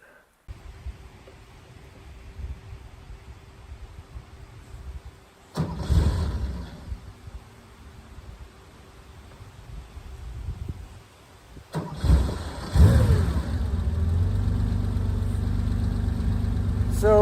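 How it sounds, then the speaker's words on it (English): A 1974 Porsche 911 Targa cranks and fails once, then catches on the second try and settles into a steady, close idle; a faint voice is heard early on. "So we'll do a start up here, take a listen to the engine and the exhaust"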